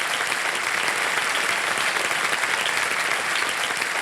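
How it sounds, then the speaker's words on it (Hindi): Studio audience applause on the KBC Season 15 game-show set, a dense steady wash of clapping that holds at even, fairly loud volume throughout with no speech over it. "ताली बजाते हैं आपके लिए"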